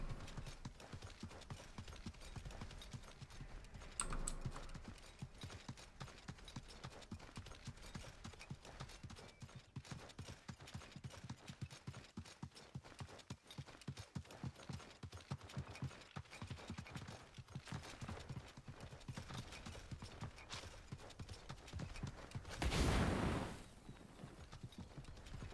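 Horse hooves clip-clopping in the video game Realm Royale, a faint, steady run of rapid hoofbeats throughout, with mechanical clicks and a brief louder burst of noise near the end.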